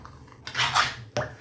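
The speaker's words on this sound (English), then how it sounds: "put that in a pan and whack it on the stove" A pan set down on a stove with two sharp metallic clanks, the first a ringing scrape-and-knock and the second a short bang, close and loud with no talking.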